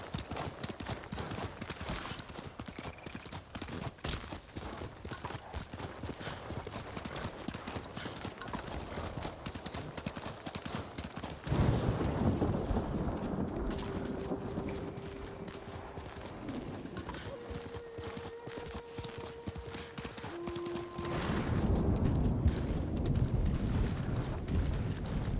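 Horse hooves pound in a rapid, continuous galloping rhythm in a video game, growing louder about halfway through, with a few soft tonal game sounds layered underneath.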